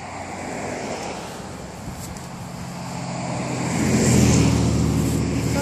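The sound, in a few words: car passing on a rural road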